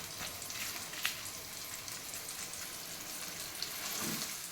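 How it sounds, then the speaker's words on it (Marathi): Pieces of surmai (kingfish), spice-coated for a Malvani fish fry, sizzle in a pan with a steady soft crackle like light rain, with a couple of brief pops and no voices. "आता मी हे फ्राय करायला टाकलं आहे. तर तुम्ही बघू शकता छान असं हे फ्राय होतं आहे."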